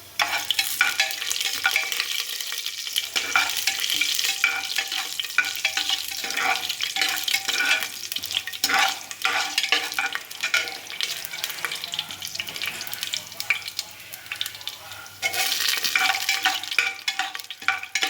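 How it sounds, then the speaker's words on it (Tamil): Urad dal and chana dal roast in hot oil for aresi uppuma, giving a steady close sizzle with stirring scrapes throughout, no voices. "இப்போ பொன்னிறமாக வர வரையும் வறுக்கணும்"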